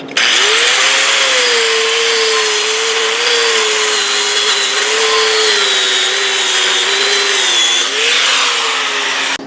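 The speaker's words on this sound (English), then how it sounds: "I want to wire wheel those and just clean it up before I put in the second layer" A power wire wheel cleans the root pass of a 2G spray-transfer GMAW weld, whining loudly and steadily at close range with slight pitch wobble throughout, uninterrupted by talk.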